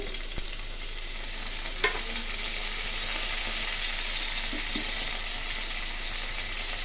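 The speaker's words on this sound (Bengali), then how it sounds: "এখন এর মধ্যে পেঁয়াজ কুচি দিয়ে দিলাম" Chopped onions frying in oil with white cumin seeds after potatoes were fried, a steady close sizzle with occasional soft stirring clinks, no talking.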